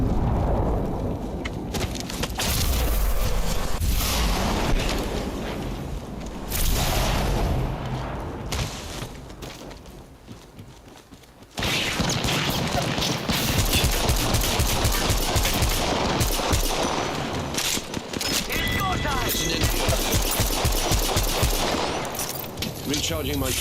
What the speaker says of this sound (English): Smart bullets hunting foes.